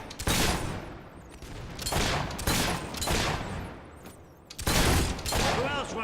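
Gunfire in the video game Fable III: several loud, sharp volleys of shots in quick bursts, separated by brief gaps, with faint background clatter between them.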